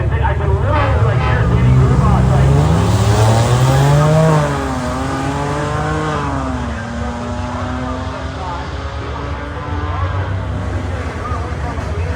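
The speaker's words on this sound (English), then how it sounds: "pits are full and racing has begun" Race cars at the Sick Smokies event, engines roaring and sweeping in pitch as they pass, with a loud revving drone that fades and swells through the whole stretch.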